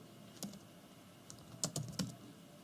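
Close, quiet clicks on a computer keyboard come in a few sparse taps, then a short cluster of keystrokes against a faint room hum.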